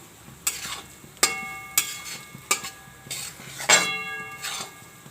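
Flour roasts in a pan for adadiya pak as a utensil stirs it, with a series of about seven sharp metallic clinks and scrapes over a low sizzle, close and clear.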